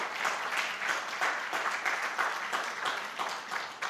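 A church congregation claps during a sermon, a dense, even round of applause from many hands that holds steady for a few seconds at moderate volume, with no talking over it.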